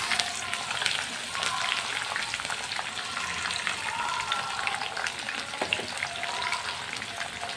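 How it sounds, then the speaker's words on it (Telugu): Green chilies and onion hit hot oil with fried peanuts for gongura rice, giving a steady close crackling sizzle throughout with small spatters and occasional stirring. "ఇప్పుడు ఇందులోకి పచ్చిమిర్చి అలాగే ఆనియన్ వేస్తున్నాను"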